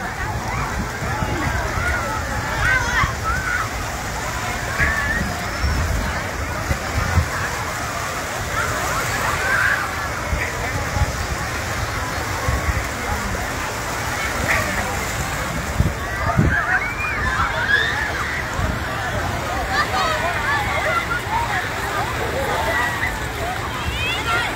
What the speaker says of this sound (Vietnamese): Chiều trên bãi biển Mỹ Khê, Đà Nẵng.